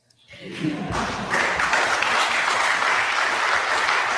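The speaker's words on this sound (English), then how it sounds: "Why are people clapping about this?" Sustained audience applause fills a hall at the Oxford Union, rising quickly and holding steady and loud throughout.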